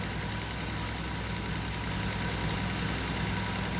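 Car engine idling at around 625 rpm during a diagnostic scan on a Toyota Soluna, a steady, fairly quiet mechanical hum with faint knocking pulses and no talk.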